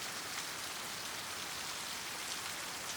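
Frozen rain falls in a steady, even hiss of fine pattering drops, soft and continuous with no voices or other sounds.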